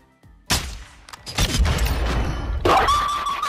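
A sniper rifle shot in Warzone 2 cracks out loud and sharp, followed by a rolling echo and a second burst of gunfire with a ringing tail, with no talk over it.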